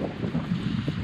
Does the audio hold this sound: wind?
yes